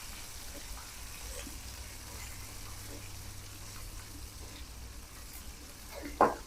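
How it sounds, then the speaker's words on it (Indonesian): Chillies frying in a pan for an Indonesian chicken rica-rica dish give a steady, low sizzle throughout, ending with a short, sharp clatter near the end. "kita goreng dulu"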